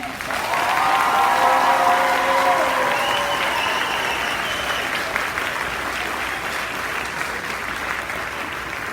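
Sustained applause from graduates' audience at a graduation ceremony, loud and continuous, gradually thinning toward the end, with a few voices mixed into the clapping.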